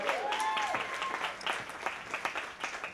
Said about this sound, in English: Applaud, that's very clever.